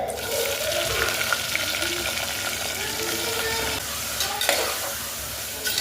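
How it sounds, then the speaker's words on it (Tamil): Steady, dense sizzling of onions and green chillies frying in hot oil, with occasional stirring scrapes and clinks throughout. "இப்போ வந்து வெங்காயமும் பச்சை மிளகாயும் போட்டுக்கலாம்."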